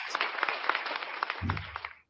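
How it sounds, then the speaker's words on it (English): Canned clap-track applause effect: a thin, steady spray of many hands clapping at moderate distance, briefly joined by a low rumble midway before cutting off abruptly at the end. "you got the clap track back on track"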